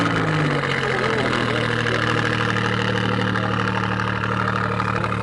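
A Paris 5 Alfa Romeo Giulia engine idles loudly and steadily with a raspy, deep drone that holds throughout, no pauses.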